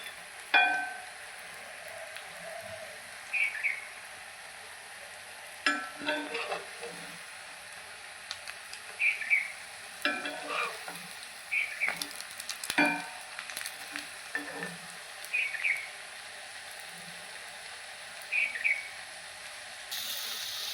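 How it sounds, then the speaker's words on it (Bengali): Young corn pakoras frying in oil, a steady soft sizzle and bubbling throughout with occasional clinks and scrapes of a utensil in the pan, and faint chirps in the background. "এইভাবে আমি সবগুলো ভেজে নেব।"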